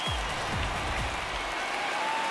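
A stadium crowd in the baseball game MLB The Show 19, at a Dodgers vs Cardinals game, applauds in a steady wash of clapping and cheering, with a few low thumps early on.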